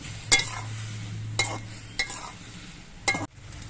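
Drumstick stems being fried down in mustard paste sauce, a spoon knocking and scraping the pan four separate times over a faint, steady sizzle, close by with no voices.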